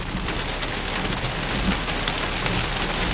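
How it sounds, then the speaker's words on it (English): Hail pelts a car and the road in a thunderstorm near Stockton, California, a loud, dense patter of close impacts with scattered sharper cracks standing out from the steady roar. "This is hail."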